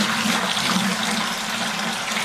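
Water pours steadily into a bucket, a continuous close rushing splash at even loudness with no talking.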